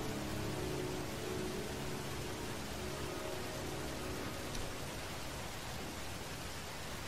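Steady rain in a scene from the game Heavy Rain, a soft, even hiss of falling water that continues unbroken and fairly faint throughout.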